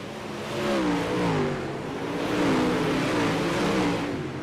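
Several race cars roar around a speedway track in a close pack, engine whine swelling and fading as they pass, steady and moderately loud with no talk.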